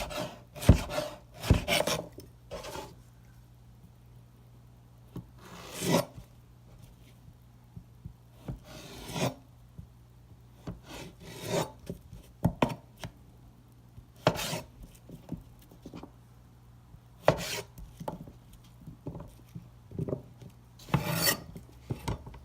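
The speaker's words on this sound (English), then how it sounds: "So let's go ahead and give these one more chop." A knife chops vegetables on a cutting board in scattered bursts of rasping, scraping strokes and sharp taps, close and moderately loud, separated by quiet pauses.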